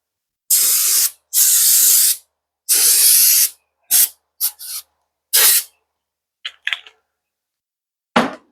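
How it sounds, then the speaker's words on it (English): Aerosol brake cleaner sprayed on the rear brake pads and rotor of a 2023 Subaru Crosstrek: several loud hissing bursts, three long ones and then shorter quick spurts, close by with no talking. "we're gonna spray this off with some brake cleaner real fast"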